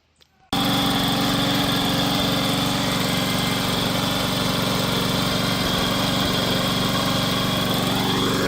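An old lawnmower engine with a slight miss starts up and runs, steady and loud close by, its rough buzzing idle continuing without a break and with no voices.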